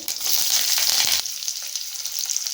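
Mustard seeds, cumin, curry leaves and onions frying in hot oil, a steady close sizzle and crackle with light stirring, louder at first and then settling to a softer hiss.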